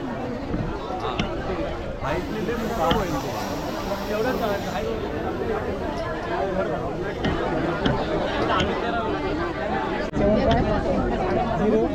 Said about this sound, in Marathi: आज गौरी खरेदीसाठी तुंबळ गर्दी आहे लालबाग मार्केटमध्ये